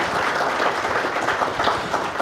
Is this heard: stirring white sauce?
no